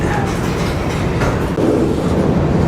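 A freight train rolls steadily on rails heading toward Houston, a loud, continuous close-up rumble of wheels and cars with a faint rhythmic clatter and no voices.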